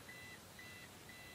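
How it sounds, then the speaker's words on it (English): A sailboat's anchor alarm gives three evenly spaced electronic beeps, faint over a steady background hiss. "And the anchor alarm's going off"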